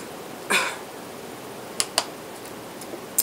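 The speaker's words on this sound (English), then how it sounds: "I keep coughing" One short cough at home, close and fairly loud, stands out against a quiet room, with a few small clicks and ticks scattered through the rest of the stretch.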